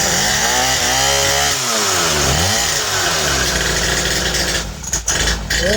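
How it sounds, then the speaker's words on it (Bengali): A small petrol engine on a children's motorbike runs loudly and close, its buzzing pitch dipping and rising as it revs, then sputtering briefly near the end. "অসাধারণ একটা তেলের বাইক চলে আসছে"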